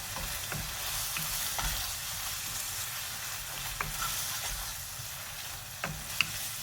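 Beef keema frying in a pan is stirred, a constant close sizzle broken by repeated scraping strokes and a few light clinks of the utensil.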